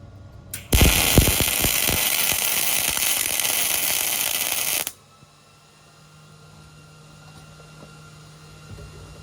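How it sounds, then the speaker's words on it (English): MIG welding a fast pass across a steel joint: a loud, steady buzzing crackle with popping spatter starts sharply near the start, holds for about four seconds, then cuts off to quiet room noise. "on this next one, I am gonna fly across this weld"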